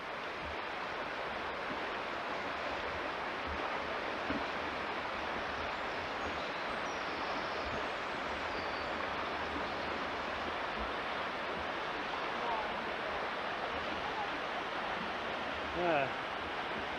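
A river flows below a high viaduct at Luxulyan, a constant broad rushing wash heard from some distance that stays level throughout, with faint voices near the end.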